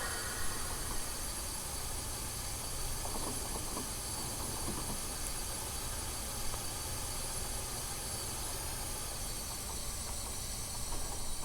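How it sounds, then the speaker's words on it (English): A steady, loud rushing hiss of air brakes thrown into emergency on a simulated 4-4-0 Empire State Express steam train in Train Simulator Classic, continuous and unbroken, with faint rail rumble beneath. "Let's throw it in emergency and see how quick it stops though."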